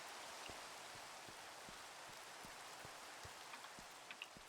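Steady, hissing rain falling over a wide area in Minecraft, constant and even, with faint soft drips scattered through it.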